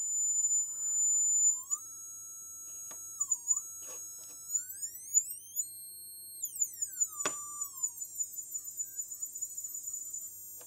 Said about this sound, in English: you can hear the different buzzers